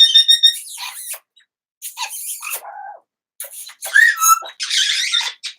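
A pet bird chirps and whistles in short bright bursts separated by brief pauses, squeaky and close, with no talk over it.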